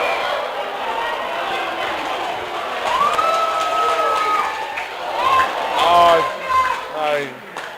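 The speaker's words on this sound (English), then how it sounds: "The crowd's going wild" A rugby league nines crowd at the Cook Islands Games roars and shouts excitedly, with raised voices rising and falling over a continuous background din that grows louder toward the end.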